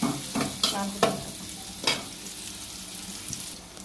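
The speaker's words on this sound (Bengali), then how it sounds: "লবণ দিয়েছি তাড়াতাড়ি ভাজা ভাজা হওয়ার জন্য" Potato pieces frying in a pan with salt as the base for a koi fish curry, heard as a steady close sizzle broken by several sharp scrapes and stirs of the spoon early on.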